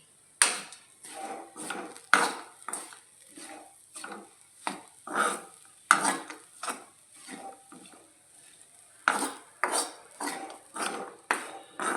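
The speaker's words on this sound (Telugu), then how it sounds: "పొడంతా కూడా కలిసిపోయేలాగా కలుపుకోవాలి" A spoon stirs spice powder through uggani, a Rayalaseema puffed rice dish, in a pot: a steady run of close, crisp scraping clacks against the vessel, regular and unhurried, with no voices.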